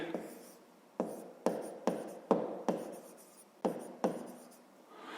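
Handwriting numbers while working a fifth-grade maths exercise: a series of close, scratchy pen strokes, each starting with a sharp tap and trailing off, about eight in a row.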